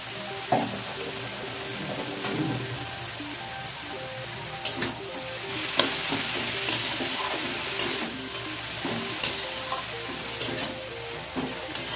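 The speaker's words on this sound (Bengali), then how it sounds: "ঘি, এলাচ আর দারচিনির সঙ্গে ভালো করে ভেজে নেব।" Grated carrots frying in ghee with cardamom and cinnamon for halwa, a continuous sizzle broken by regular scraping strokes of a spoon in the pan, with no talking.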